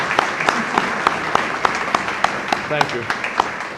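Audience applause at an annual meeting award ceremony, with a steady wash of clapping lasting throughout and a few sharper individual claps standing out, while a voice briefly speaks over it.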